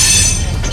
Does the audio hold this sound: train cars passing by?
yes